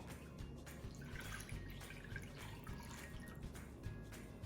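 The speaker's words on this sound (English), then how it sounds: "First add the water to the bowl." Water trickles and splashes quietly into a bowl for a pork brine, with small drips and a faint running stream throughout.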